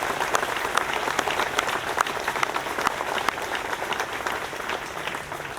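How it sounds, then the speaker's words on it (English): A crowd applauds international students at a university residence hall grand opening and dedication ceremony, a steady, even round of many clapping hands heard alone at moderate distance. "So a big round of applause for our international students"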